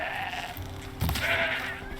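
Goats bleat a few times over a steady electronic background hum in the video game Horizon Zero Dawn, with a sharp thud in the middle.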